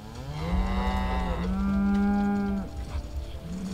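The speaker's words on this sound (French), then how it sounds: "Vache, traire." A cow in the Project Zomboid video game gives a long, loud, close moo that rises, holds a steady tone, then drops off, followed by quieter background noise.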